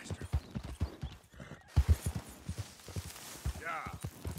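A horse gallops in the Red Dead Redemption 2 video game, its hoofbeats quick and rhythmic and close, followed by a brief whinny near the end, with a voice talking over it.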